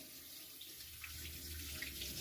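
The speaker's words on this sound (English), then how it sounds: "Put hands in water. Wash off soap." A tap runs steadily at a sink as soap is rinsed off hands, a faint, continuous splashing hiss with no voices.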